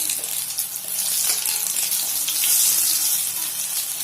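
A vegetable pancake fries in oil in a pan, giving a steady, close, bright sizzle with a small swell of crackling midway and again later, no voices heard.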